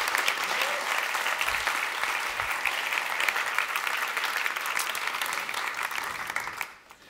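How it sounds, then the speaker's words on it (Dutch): An audience at an evening literary event gives a guest warm applause, thick steady clapping that holds strongly for several seconds before tapering off sharply at the end. "geef er een hartelijk applaus"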